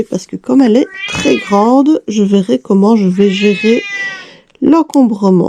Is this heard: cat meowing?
yes